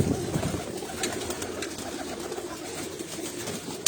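Pigeons coo softly in a loft among other birds, a low murmuring bed of calls with faint chirps and no clear talking.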